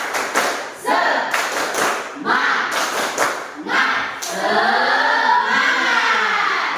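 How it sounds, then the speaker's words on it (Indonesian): A group in a classroom session claps a spirited rhythmic cheer in bursts, loud and close, with a voice calling out between the clapping and a sustained vocal tone at the end. "Sekali lagi, dan lebih semangat, lebih keras lagi ya. Tepuk semangat."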